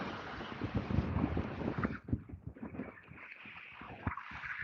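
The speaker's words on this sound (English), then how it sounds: "Oh my god, it's fucking windy." Heavy wind buffets the microphone in a parking lot, with loud gusty rumble and roar that eases after a couple of seconds into lighter, fluttering bursts.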